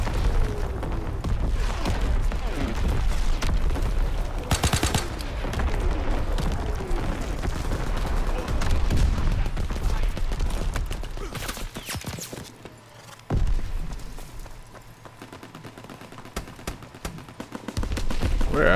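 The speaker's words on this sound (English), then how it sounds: "Incoming enemy artillery." Incoming artillery and gunfire in Call of Duty: WWII, loud, sustained bursts of shots and heavy booms packed tightly together, easing into a quieter spell near the end before more scattered shots.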